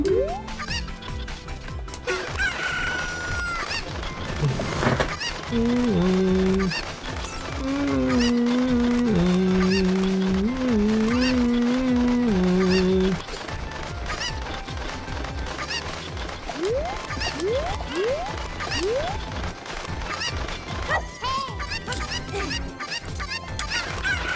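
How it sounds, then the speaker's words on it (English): A chicken in an Archipelago randomizer video game squawks and honks in loud repeated bursts over game music, with flurries of short clucks later on. "Grab the chicken!"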